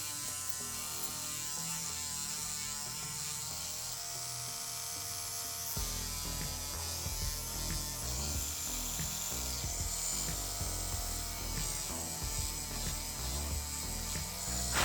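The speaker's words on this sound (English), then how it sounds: "This drill, I have to say, is really cool." A close electric nail drill whirs steadily throughout, its motor tone joined by a gritty, ratcheting grind that grows busier partway through. No one speaks.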